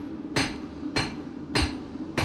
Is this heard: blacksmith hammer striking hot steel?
yes